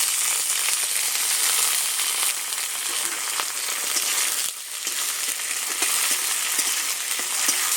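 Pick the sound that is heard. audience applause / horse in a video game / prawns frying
prawns frying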